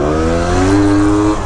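A Honda Cub EZ90 mini bike engine revs hard, a brief loud rising drone with strong harmonic tone heard close up.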